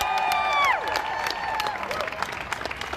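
A crowd applauds and cheers for a band at an outdoor protest gathering at the Greek Theater in Denver, steady clapping filling the space as a sustained tone fades out at the start.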